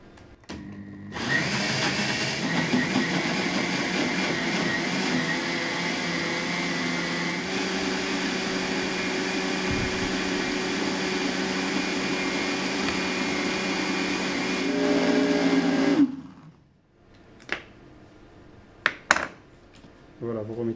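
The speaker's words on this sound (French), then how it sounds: "Alors le beurre, je vais le rajouter en mixant" A blender runs continuously for about fifteen seconds, whirring steadily as butter is worked into eggs, egg yolks and rum, then cuts off and leaves a few kitchen clinks.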